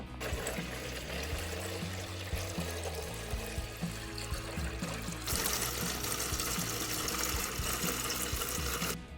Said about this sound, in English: This is the device Brent created so that we can get the water from the jugs into the RV